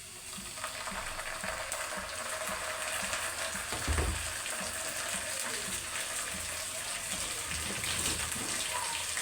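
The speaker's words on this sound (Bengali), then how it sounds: "পেঁয়াজ ভাজা হয়ে গেছে।" Onions frying in a pan as cumin paste is added, a steady broadband sizzle running throughout at moderate level with a brief louder bump partway through, no voices.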